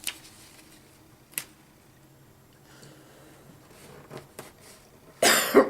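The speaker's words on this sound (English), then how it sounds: "I'm sorry, I'm going to start coughing." A person coughing in a quiet room while folding a twisted fold card, a few isolated sharp coughs and taps spread out, ending in a louder, longer coughing fit.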